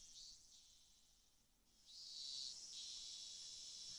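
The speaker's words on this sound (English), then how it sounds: "I like that in so many of these kind of soft, peaceful scenes that we hear the cicadas" Cicadas in the Higurashi: When They Cry visual novel, a steady high shrill drone that thins slightly midway then swells louder and fuller, continuous throughout with no talk.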